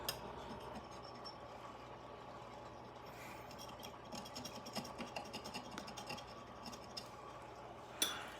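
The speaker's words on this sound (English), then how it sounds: "Now you might hear friction up against the glass, and basically that's the calcium rubbing up against my knife" A knife scrapes calcium buildup off aquarium glass after a vinegar treatment, giving faint, close, irregular scratching strokes with a few sharper ticks, including a louder one near the end.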